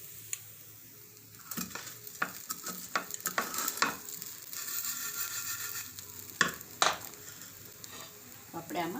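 Tempering sizzles and crackles in a hot pan for drumstick leaf dhokla, with intermittent stirring clinks and scrapes of a utensil, moderately close and steady throughout.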